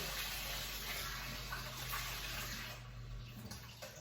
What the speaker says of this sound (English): half a teaspoon of bicarb, and half a cup of lukewarm water